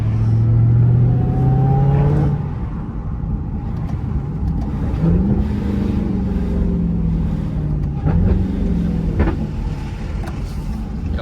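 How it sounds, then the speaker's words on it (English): Dodge Hellcat Redeye on the road, a deep engine rumble with upward-swooping revs and small exhaust burbles and pops while driving in traffic, loud and close throughout. "Listen to that, little tiny burbles."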